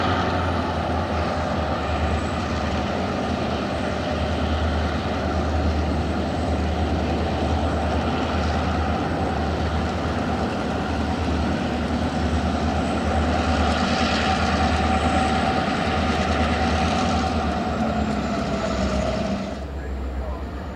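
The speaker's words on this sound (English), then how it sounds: "This GP38-2 is still in its as-delivered UP paint as it departs heading east." A Union Pacific GP38-2 diesel locomotive in as-delivered paint departs eastbound from the Roseville yard with a steady, loud engine drone and low throb that holds for the whole stretch, easing slightly at the very end.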